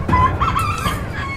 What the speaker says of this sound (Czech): Nejdřív musíme přivést slepici.